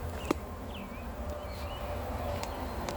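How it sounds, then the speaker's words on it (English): Agitated honeybees swarm around an open hive during a beekeeping inspection. They make a steady low drone throughout, with a few faint sharp ticks and brief high chirps over it. "The bees are starting to go a little bats, so I've got them all over my face."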